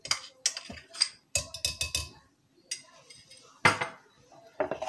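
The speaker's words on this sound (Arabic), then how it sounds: "كنخلطو هاد المقادير مزيان حتى كينسجمو مع بعضهم لمدة ديال 3 دقايق" Cocoa powder, a pinch of salt and melted chocolate being mixed in a bowl, heard as a series of sharp clinks and taps of utensil against dish, clustered in short bursts with brief pauses.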